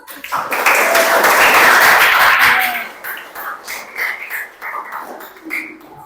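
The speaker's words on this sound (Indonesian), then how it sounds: "Tepuk tangan untuk kelompok Nabi Isa" Classroom applause for a student group in an Islamic religious education lesson, a loud burst of dense clapping that tapers after about three seconds into scattered, uneven claps.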